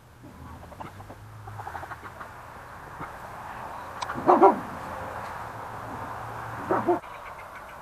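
Dogs give a few short barks and whimpers on a farm where chickens roam near a garlic garden bed, the sounds fairly close over a low outdoor hum and quiet background noise.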